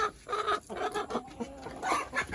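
A flock of chickens clucking busily and close at feeding time, with overlapping bursts of clucks and squawks and no talking.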